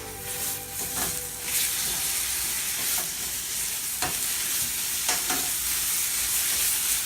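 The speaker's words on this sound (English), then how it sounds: "I'm gonna keep on stirring it." Spinach with red pepper flakes is stirred in a hot pan, giving a steady close sizzle with a few sharp scraping strokes of the utensil spaced every second or so.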